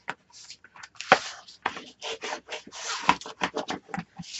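A paper album cover is burnished with a tool, giving a run of short dry rubbing strokes in an irregular rhythm, close and fairly quiet.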